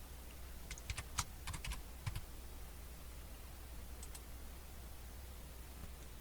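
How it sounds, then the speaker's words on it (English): Faint keyboard keys tap in a quick cluster, then a couple of isolated presses, over steady background hiss while a command is typed on a Linux computer. "type in the GAMBAS basic command"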